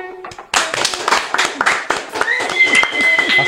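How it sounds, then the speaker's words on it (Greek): Enthusiastic clapping from a small group of hosts welcoming a podcast guest, sharp dense claps starting abruptly and continuing close and loud, with faint voices underneath. "Είναι το καθιερωμένο χειροκρότημα που κάνουμε για όλους."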